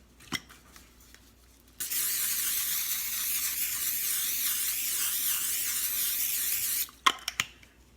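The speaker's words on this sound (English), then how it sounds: "you're going to spray your pan" A steady cooking spray hisses onto a pan for about five seconds, loud and close, with a few small clicks and taps just before and after.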